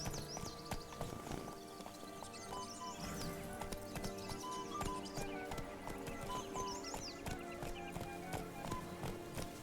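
Roach, a horse in The Witcher 3, gallops with rapid rhythmic clip-clop hooves and an occasional whinny, set against steady game music and ambience.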